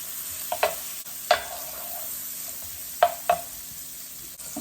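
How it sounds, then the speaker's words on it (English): Vegetables softening in a pan while an oven preheats, with a low steady sizzle running throughout and a few soft stirring scrapes and clinks standing out now and then. "I'm softening up my veggies here"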